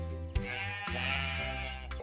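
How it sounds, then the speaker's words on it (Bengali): A cartoon sheep bleats in a long, wavering "baa" that stretches for about two seconds, clear and alone. "ভেড়া বলে মে"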